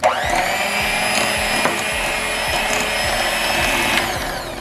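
An electric mixer whirs steadily while mixing flour into maple blueberry muffin batter, a loud, close motor whine with a rhythmic ticking of beaters against the bowl, starting abruptly and cutting off near the end.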